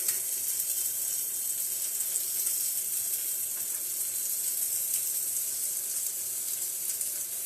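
Mushrooms fry in a pan with leftover steak juices, giving a steady, moderately loud sizzle with a bright hiss that holds evenly throughout, and no talking over it.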